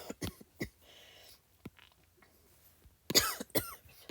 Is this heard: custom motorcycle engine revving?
no